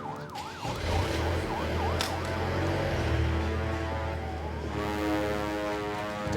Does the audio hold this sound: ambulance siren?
yes